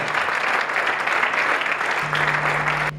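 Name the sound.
congregation applauding in church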